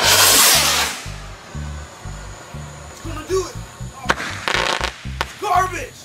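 Cartoon fireworks on the Fourth of July: small fizzing bursts and crackling pops over a repeating low rhythmic backing, with sharp snaps near the end, under intermittent voices.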